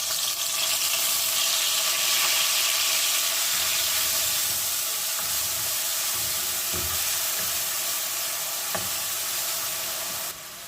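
Grated onion sizzles and hisses steadily in hot sunflower oil in a pan, a continuous close frying sound with faint scraping knocks and no talking.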